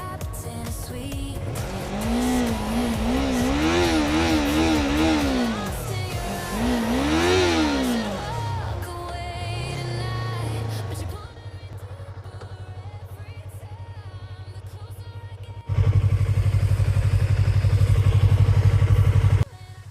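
Yamaha R3 motorcycle engine revving up and down in loud sweeping bursts, then settling to a lower idle before a loud steady running stretch near the end.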